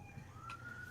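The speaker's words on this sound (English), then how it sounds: "I hear the sirens coming for us from saying that." Police siren wailing at a distance in the background, a steady rising tone held through the whole second, with no one speaking over it.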